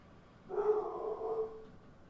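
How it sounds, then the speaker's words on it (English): A single short, muffled dog bark or yelp in the distance, lasting about a second against a quiet background. "And you probably just heard my dog barking."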